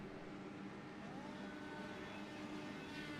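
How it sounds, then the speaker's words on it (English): A steady, continuous IndyCar engine rumble at Pocono in the iRacing video game, with faint rising whine tones, sustained throughout at moderate level, with no voices. "You can hear the rumble of the engine."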